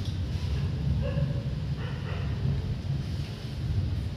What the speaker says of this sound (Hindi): बादल गरज रहे।